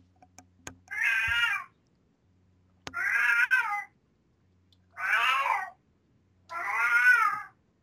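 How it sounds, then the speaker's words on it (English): A cat meows four times, each call drawn out and plaintive, separated by pauses with faint knocks and clicks in between, close and clear against a quiet background. "Is that a cat?"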